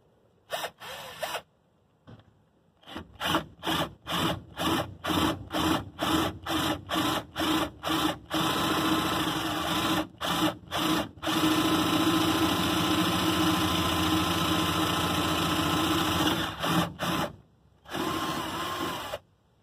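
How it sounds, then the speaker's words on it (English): A power drill whines in repeated short bursts drilling holes into a stuck gas cap, then runs in a longer sustained grind before a final brief burst, loud and close. "Drill a lot of holes with this one."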